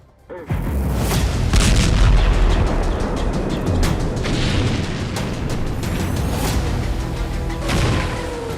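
A sudden loud explosion in southern Lebanon opens into a long, rumbling roar with crackling debris and scattered sharp bursts. The sound is sustained and heavy for several seconds, and no talking is heard.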